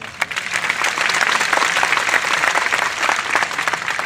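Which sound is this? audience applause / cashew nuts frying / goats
audience applause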